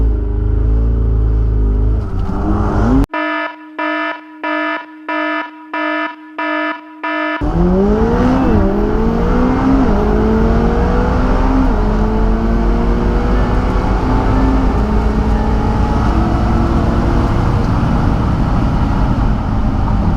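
A McLaren 720S and a Dodge Demon drag race down a quarter-mile strip, starting with a loud engine rumble and then a run of evenly spaced electronic beeps. Engines then roar at full throttle, loud and sustained, with rising revs and gear shifts.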